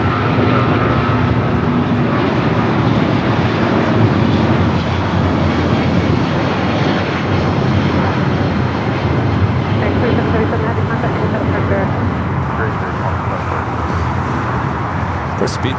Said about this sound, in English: For Speedbird touching down here, flight 283 coming up from London Heathrow.